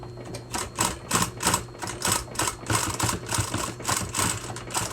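A sewing machine back-tacking a seam on fabric for a handmade plush toy, running in short rhythmic bursts of rapid stitching with a motor hum, close and alone with no talk.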